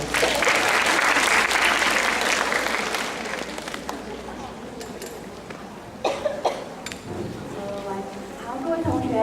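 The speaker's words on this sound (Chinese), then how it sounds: "我们掌声欢迎雅洁老师" Students at a school counseling-office briefing give a teacher a sustained round of applause, dense and loud for several seconds before it fades into a single voice speaking.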